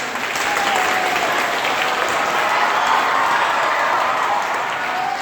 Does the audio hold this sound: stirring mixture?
no